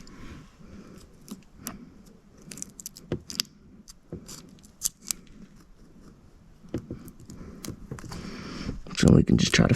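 Scissors or a blade trimming window tint film on a car windshield, producing scattered faint snips and crisp clicks under a man's speech, with louder handling rustle near the end.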